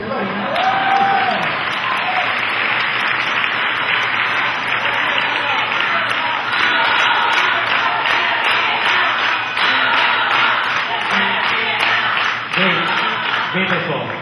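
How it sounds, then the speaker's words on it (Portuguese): Audience applause at a graduation ceremony, dense and steady clapping from a large crowd sustained throughout, with voices faintly under it. "eu vi ele começando as palmas aqui agora"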